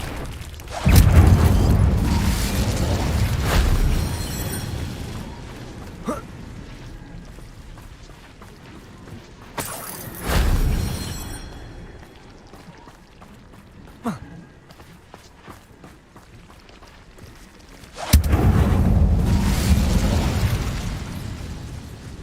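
Incendio fire spells blast in the video game Hogwarts Legacy: three loud whooshing bursts, spaced several seconds apart, each flaring up and then dying away into a rumbling tail over quieter game ambience.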